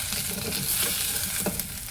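Raw jackfruit pieces frying in oil inside a pressure cooker, a close, continuous sizzle with occasional stirring scrapes.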